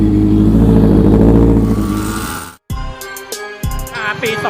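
A smooth Honda CBR650F motorcycle engine runs loudly and steadily, cuts out briefly, then idles on with a lower, even hum and small revs.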